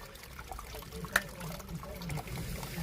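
Groundwater runs through a trench under an inground swimming pool and trickles steadily into a sump pit, a soft continuous flow with one brief splash, heard close.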